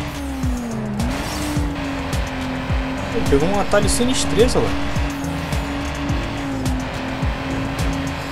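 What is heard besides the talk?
racing car engines and tire squeal in Need for Speed: Underground video game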